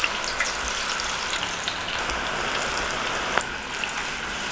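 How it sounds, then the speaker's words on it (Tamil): Mushroom pakoda masala deep-frying in a litre of hot oil at a roadside street food stall, a dense steady sizzle and crackle with scattered pops, moderately loud and close, with no voices. "இப்ப பக்கோடா மசாலாவை எண்ணெயில போட்டு பொரிச்சுக்கலாம்."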